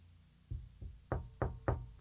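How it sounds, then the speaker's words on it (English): Five knocks on a door, two softer ones followed by three sharper, louder raps in a quick irregular rhythm, alone against a quiet background. "who should come knocking at the door"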